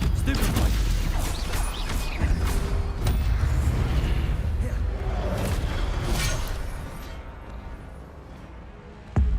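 Spell-casting combat in the video game Hogwarts Legacy, with a Stupefy stun spell among dense, continuous magical whooshes, cracks and booming impacts that stay loud throughout and ease off slightly near the end.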